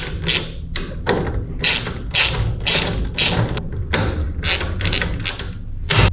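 Genie garage door opener mechanism being worked on, with loud, close, repeated mechanical clicks, clunks and ratcheting bursts in an irregular rhythm throughout, no talk.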